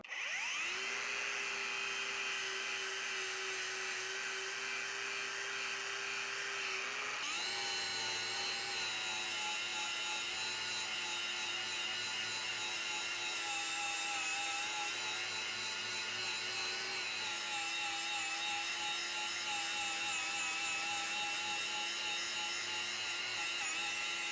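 A black Tubarão strip disc spins against a painted surface, stripping off paint, rust and varnish. It makes a steady, loud, high mechanical whine that holds throughout, with a slight shift in pitch partway through and no voices.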